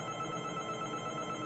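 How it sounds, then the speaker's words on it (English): A home telephone ringing steadily and continuously, a loud electronic ring filling the room on its own without talk. "I'm sorry that phone is going off."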